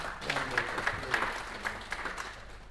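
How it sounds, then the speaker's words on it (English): Audience applause at a meeting on upcoming elections, honouring the Electoral Commission chairperson: a moderate, fairly distant round of clapping with slight peaks, steady throughout and fading a little toward the end. "can we give him another louder round"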